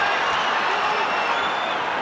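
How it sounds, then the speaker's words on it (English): A boxing arena crowd cheers and applauds during a toe-to-toe exchange between Cristofer Rosales and Paddy Barnes, a steady dense roar of clapping and voices that holds at an even level throughout. "Crowd's loving it."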